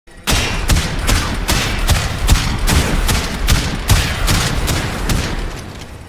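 Shotgun fire in the Warframe video game, a rapid run of loud, punchy blasts at a steady rhythm, roughly a dozen shots over six seconds with no talking.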